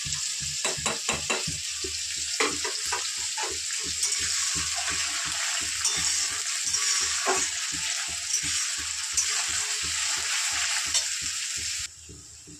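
Pasta and other ingredients frying in a pan for an evening snack, a steady close sizzle with rhythmic stirring scrapes through most of it and no talk.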